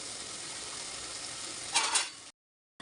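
Spice masala sautés in oil in a pan, giving a steady, even sizzle with a brief louder scrape or stir near the end before it cuts to silence.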